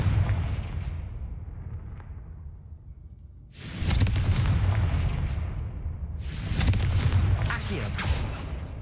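Confringo fire spell blasts in the video game Hogwarts Legacy: two loud explosive booms, each followed by a roaring, crackling burst, over a steady low game-ambience rumble.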